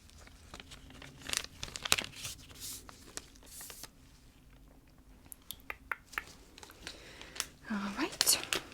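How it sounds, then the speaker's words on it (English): A blood type test card packet is torn open in a quiet ASMR setting: close, soft crinkling and ripping bursts in short clusters, with a louder crinkly tear near the end and faint whispery sounds between. "I'm going to open this card up right now. Just going to tear that open and bring it out."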